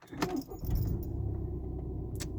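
A 2.0 TDI diesel engine in an Audi Q3 is started after an oxygen sensor replacement, with a brief key rattle and click, then the engine catches and settles into a steady, close low idle rumble.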